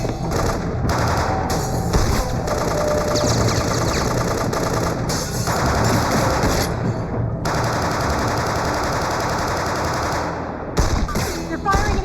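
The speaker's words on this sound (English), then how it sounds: "They're firing at each other." Sustained gunfire exchange in the video game 24: The Game, rapid machine-gun bursts and shots running nearly continuously and loud throughout, with brief gaps, engine-like rumble and faint voices mixed underneath.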